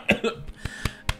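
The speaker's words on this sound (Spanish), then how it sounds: "me ha dado un poco de tos" A person coughs several times in short, sharp bursts, close to the microphone, during a Jurassic World Alive gaming session, with the coughs spaced unevenly over about a second.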